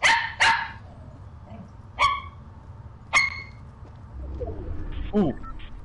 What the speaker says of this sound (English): I bet it's hard to concentrate with that barking.